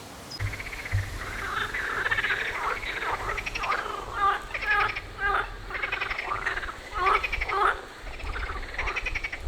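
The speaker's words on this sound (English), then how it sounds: "The froggies are back." Frogs call repeatedly from a weedy chateau moat pond, a series of rhythmic croaks and chirps at moderate distance over outdoor background noise.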